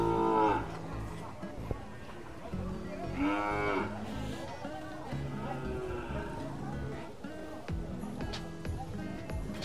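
Several carabao (water buffalo) moo at a livestock auction, long low calls rising and falling over a busy, noisy background with people talking nearby.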